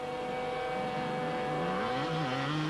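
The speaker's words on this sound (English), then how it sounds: "Somebody revving hard out there. There's a stuck throttle somewhere." A motorcycle engine revs hard and steadily at an enduro world championship stage in France, 1991, its pitch climbing and dipping; the drone is continuous and somewhat distant, with no talk.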